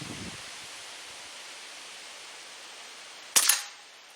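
A Beeman QB78 .22 air rifle fires a Predator pellet outdoors in wind: one sharp, close report breaks a long stretch of steady breezy hiss, then fades quickly.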